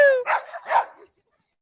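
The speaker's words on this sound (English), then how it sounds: "There goes Sadie the dog. She is joining the race." A dog joining a race at a street event lets out two quick yipping barks close by, followed by a brief silence, with the tail of a voice at the start.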